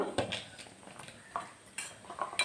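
Homemade ghee being stirred into an ash gourd chutney in a pan, with soft clinks and scrapes of a spoon against metal coming close and fairly quiet in an irregular rhythm.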